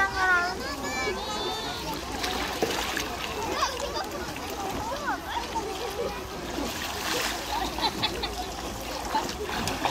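Water splashes and sloshes in a swimming pool during a summer holiday, with children's voices and chatter running over the busy, continuous splashing throughout.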